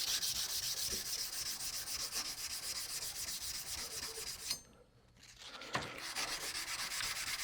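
Steady close-up abrasive rubbing of sandpaper worked by hand along a steel chef's knife blade, continuous for several seconds, then a brief pause and a sharp scrape before the sanding resumes.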